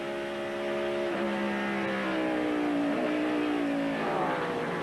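A race car engine at Watkins Glen, loud and close, holding a high droning note whose pitch dips and climbs as the revs change, continuous with no talk.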